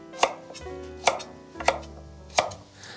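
Root vegetables are cut into even chunks for roasting, with four distinct, heavy knife chops against a board spaced about a second apart, close and alone.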